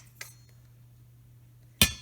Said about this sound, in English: now we're gonna use a pastry blender